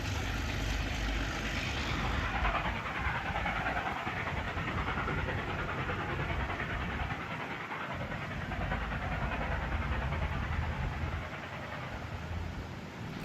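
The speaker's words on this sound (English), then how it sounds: "4836 from Junee is seen once again assisting the train." A train assisted by locomotive 4836 from Junee in New South Wales runs by with a steady low engine rumble and rolling wagon noise, a continuous broad roar heard from a distance with no voices.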